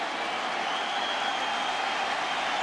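A baseball stadium crowd roars in a steady, unbroken wash of cheering and applause. The noise stays loud and even throughout, with no single voice standing out from the mass.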